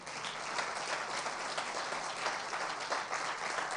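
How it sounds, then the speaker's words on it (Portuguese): A church congregation gives steady, dense applause in a reverberant sanctuary, continuous and fairly loud throughout, with no talking over it. "Você pode dar um aplauso bem forte ao Senhor?"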